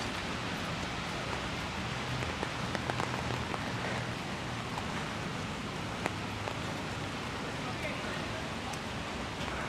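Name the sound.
rain falling on a New York City street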